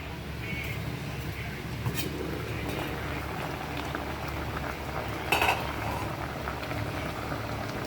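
A metal lid clanks briefly onto a pot of tilapia simmering in coconut milk, over a steady background of bubbling and kitchen noise.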